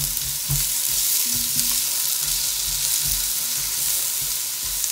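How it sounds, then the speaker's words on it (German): Meat and onions sizzle loudly in a hot pan for Uzbek lagman, a dense continuous hiss with occasional scraping stirs, no voices present. "Also wirklich anbraten, bis die goldene Farbe kommt."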